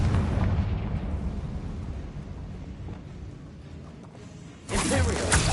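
A Confringo spell explodes in Hogwarts Legacy with a loud rumbling blast that decays slowly, followed by a second fiery burst near the end.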